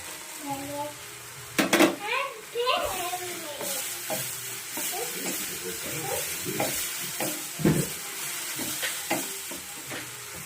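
A spoon stirs pre-fried cashews into a sweet jelly pickle of raw and ripe mango in a pan, with scraping clinks and a steady sizzle, plus a few sharper knocks against the metal.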